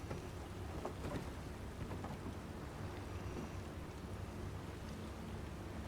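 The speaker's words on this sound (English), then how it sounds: "Even though it's raining right here in game." Steady rain pouring over a fishing village in Elder Scrolls Online, a dense, even wash of falling water with faint low rumbling, quiet and alone with no talk.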